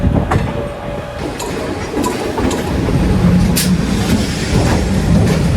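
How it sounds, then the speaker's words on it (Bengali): Maa Tara Express (13187) rolling out from Sealdah station, a steady loud rumble of wheels on track with rail clatter and a few brief metallic transients, continuous throughout with no talking. "আমাদের ট্রেন শিয়ালদাহ রেলওয়ে স্টেশন থেকে ছেড়ে দিল"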